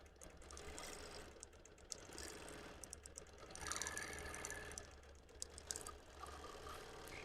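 A BERNINA Q-Matic computerized quilting machine stitches with a rapid, steady mechanical whir and ticking, faint and continuous, with small clicks scattered throughout and no one speaking.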